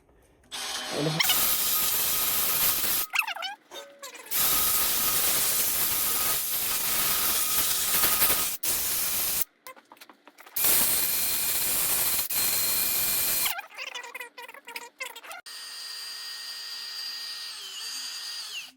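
A small handheld sander grinds adhesive residue off a Yamaha FZ07 motorbike in loud sustained bursts, stopping and restarting several times with short gaps between runs.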